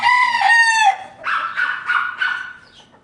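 A Black Albany rooster crows loudly and close, followed by a run of several short clucks that fade toward the end.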